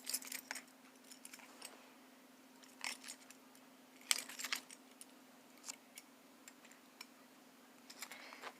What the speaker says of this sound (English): First are 1987 Chevrolet Blazer keys.